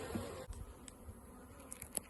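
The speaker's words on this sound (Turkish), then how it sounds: "eminim çok arı var çünkü burada" Honey bees buzz faintly and steadily in the background around a hive, with a few soft clicks and taps, no voices.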